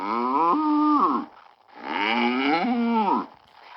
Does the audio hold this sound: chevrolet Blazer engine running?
no